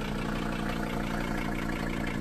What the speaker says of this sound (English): idling up and down a little on its own